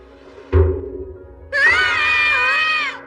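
Cartoon characters let out a loud, sustained high-pitched scream after a sharp thunk, the wavering shriek lasting about a second and a half before cutting off abruptly.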